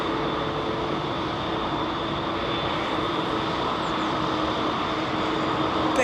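A jet airliner taking off at London Heathrow gives off a dense, unbroken engine roar, close and steady for several seconds with a faint high whine running through it.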